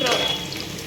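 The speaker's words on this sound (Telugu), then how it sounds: "రొయ్యలు వాటర్లోకి గట్టిగా పిండుకొని వేసుకొని ఫ్రై చేసుకోవాలి" Shrimp squeezed of water fry in oil in a pan, a close, steady sizzle and crackle with no talk.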